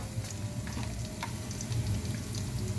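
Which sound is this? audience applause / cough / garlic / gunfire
garlic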